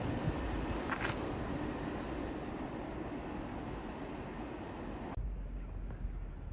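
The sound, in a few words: train passing through West Ealing station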